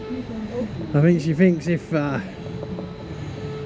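Steady rumble and hum of a passenger train riding the rails, a low continuous drone running beneath people chatting aboard.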